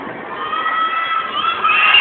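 Crowd shouting at a basketball game, a dense, continuous roar of many voices that holds steady and rises slightly toward the end, with no single voice standing out.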